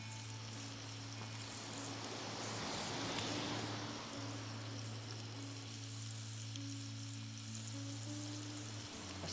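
Soft continuous sizzle of steak frying in a pan over a Swedish torch on a beach, with a low steady hum underneath and no one speaking.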